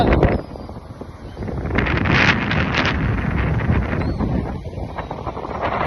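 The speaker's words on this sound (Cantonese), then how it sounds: "今日超大風" Strong wind blows at a beach resort on Cayo Paredón in Camagüey, Cuba, buffeting the microphone with a continuous loud roar that gusts and swells for several seconds.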